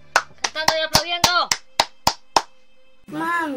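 People at a birthday gathering clap their hands while singing, about nine sharp, close claps in an uneven rhythm under the voices, followed by a brief pause and then more singing.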